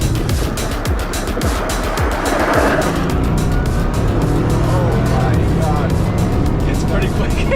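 A very fast car launching and accelerating hard: a loud, continuous roar of engine and rushing noise from inside the car, with voices talking over it.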